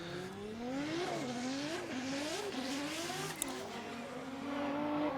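A Toyota GT86 drift car on Viper racing tires with a 3.4 litre 2JZ engine, loud and steady as it revs up and down in repeated swells, with faint tire squeal under the engine note.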